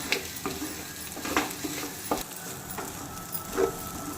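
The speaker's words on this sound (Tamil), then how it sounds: "இப்ப இதை நல்லா கிளறி விட்டுக்கலாம்" Beetroot and egg podimas frying in a pan while being stirred, a steady sizzle with repeated scraping strokes of a spatula against the pan, close and alone.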